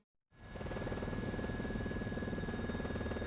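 Steady helicopter rotor drone from inside the cabin in Persona 4 Arena Ultimax, starting abruptly after a brief silence and continuing as an even pulsing thrum with a high whine, no talk.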